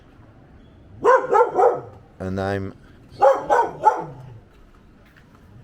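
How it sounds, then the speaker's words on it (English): A dog barks next door in a rhythmic series of loud, close barks, with one drawn-out whining yelp in the middle and a quiet room around it, heard in a Nicaraguan apartment near the beach. "A dog next door."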